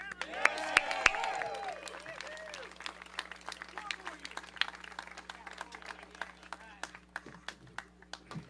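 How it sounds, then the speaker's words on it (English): Scattered applause and cheering from a rally crowd greeting DC council members, with a few whoops and whistles early on, then thinning into sparse individual claps under distant voices. "Have a round of applause for them."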